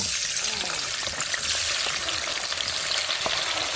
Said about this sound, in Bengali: তেল আমাদের গরম তো এখন দিয়ে দেবো আমরা কেটে রাখা ভাজাগুলো